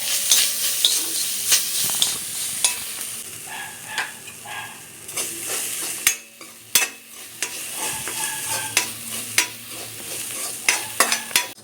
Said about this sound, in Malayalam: ഒരു ചെറിയ ഒരു കപ്പ് തേങ്ങ ഇട്ട് കൊടുക്കാം. നെയ്യിലൊന്നും വറുത്തെടുക്കാം.